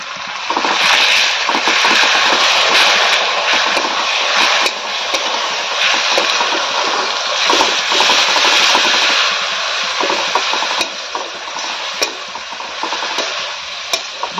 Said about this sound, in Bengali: এবার ঠাকুমা খুন্তি দিয়ে নাড়ছে